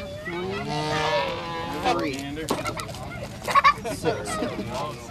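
Captive geese honking and calling during a goose banding session, their harsh harmonic cries repeating close by in the first seconds, followed by handling noises and a few sharper bursts.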